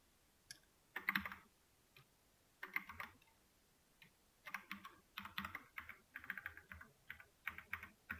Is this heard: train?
no